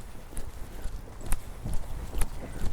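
Horse hooves beat in a canter during a dressage schooling ride, a steady rhythmic clip-clop of several strikes at close-to-moderate distance with soft ambient noise around them.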